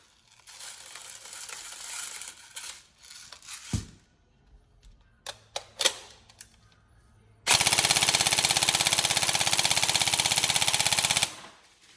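An upgraded Tokyo Marui MK18 NGRS airsoft rifle fires, first in short bursts and single sharp shots, then one long continuous full-auto burst of rapid mechanical cycling that ends abruptly, loud and close.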